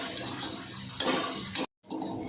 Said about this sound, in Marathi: हे व्यवस्थित परतलं गेलं पाहिजे